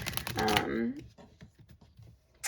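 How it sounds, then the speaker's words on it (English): Tarot cards riffled in a quick shuffle, a burst of close papery flutter that fades into softer scattered card sounds and brief handling noises. "let me give it a quick shuffle"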